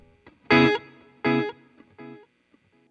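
Guitar run through a NUX Mighty Plug Pro digital delay, three distinct plucked chord stabs spaced about a second apart with faint trailing repeats between them, fairly quiet and free of speech.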